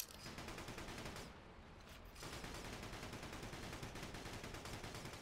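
Rapid, sustained gunfire from infantry units in the Battalion Wars game, a steady rattling fusillade with a brief lull near the start before resuming, fairly quiet overall and with no talk.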